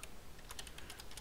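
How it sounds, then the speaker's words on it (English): Typing a user name on a computer keyboard while logging into a Windows Server 2019 machine as an administrator: quiet, irregular clicking keystrokes in quick succession with no voices. "I'm going to type here name first"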